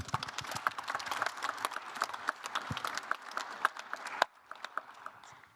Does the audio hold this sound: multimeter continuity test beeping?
no